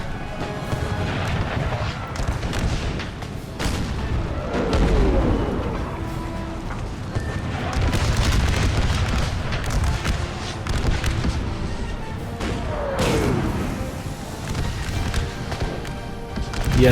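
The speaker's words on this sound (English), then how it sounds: "The artillery is targeting their position." Artillery fires repeatedly on an American Civil War battlefield, with heavy booms rolling through a dense, continuous din of musketry and battle noise. The sound stays loud and sustained throughout, without talking.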